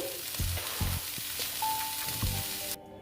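Food sizzles steadily in hot oil, with a few soft clunks of stirring in the pan.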